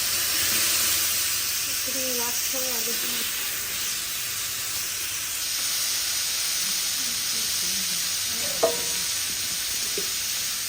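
Panch phoron spices frying in a pan, a steady loud sizzle and hiss throughout with faint stirring, while people talk quietly in the background.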